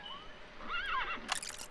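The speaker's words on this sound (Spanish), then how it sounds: "Caballo." A horse in the video game Metal Gear Solid Peace Walker gives one short, clear neigh that rises and falls, followed by a brief crackle of noise.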